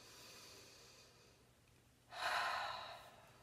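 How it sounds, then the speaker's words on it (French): One slow breath drawn in and released through the nose during a calm guided relaxation exercise, a faint soft inhale followed by a louder, airy exhale, close and alone. "Alors, on inspire par le nez. On expire."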